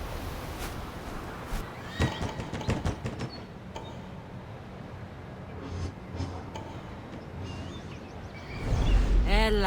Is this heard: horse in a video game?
yes